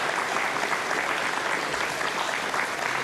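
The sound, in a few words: applause in Ariane launch control room after payload separation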